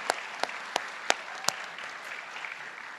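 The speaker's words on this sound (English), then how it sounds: "Just a quick round of applause for them." Brief round of applause from a school board meeting audience, a few sharp distinct claps at the start and then a thinner patter of clapping that fades out.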